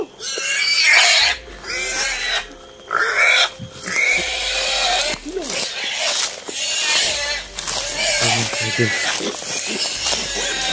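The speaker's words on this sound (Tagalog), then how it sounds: "Napakaingay ng baboy mo." Loud, chaotic squeals and grunts from a heavy pig come in repeated bursts, with people talking over the commotion.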